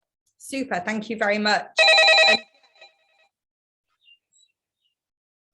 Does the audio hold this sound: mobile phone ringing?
yes